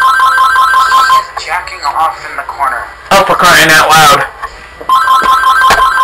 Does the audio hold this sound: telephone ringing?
yes